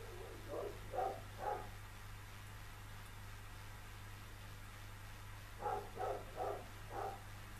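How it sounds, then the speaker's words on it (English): A two-year-old Rottweiler barks from a distance in two bursts, first three quick barks and later a run of about five, all muffled over a constant low hum. "Two-year-old Rottweiler that never stops barking."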